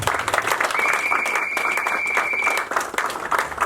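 A church congregation claps in praise during a service, dense, close applause with a sustained whistle or tone ringing over it before the clapping thins out.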